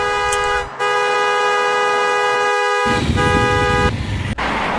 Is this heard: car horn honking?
yes